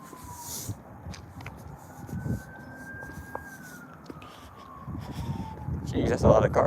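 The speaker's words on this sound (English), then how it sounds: "Uh-oh, I hear sirens" A distant police car siren wails in a long rising and falling sweep, fairly faint, beneath traffic noise and occasional speech nearby.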